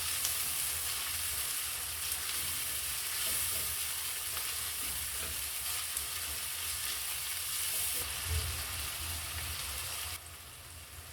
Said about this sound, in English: you're going to add some oil in a cooking pot, and then you're going to add your onions and cook until translucent